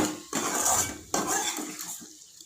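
A spoon scrapes and clanks against a pan while grated mango and ginger pickle is stirred, two distinct bursts of metallic scraping close up with no talking.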